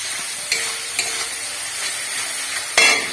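Ginger, dried chilli and turmeric sizzle loudly in hot oil in a pan while being stirred, a constant hiss broken by a few sharp scrapes and clinks of the spoon; no talking.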